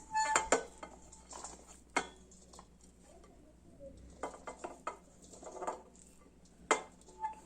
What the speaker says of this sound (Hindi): मिक्स करने के लिए हम इनको इस मिक्सर में डाल लेते हैं।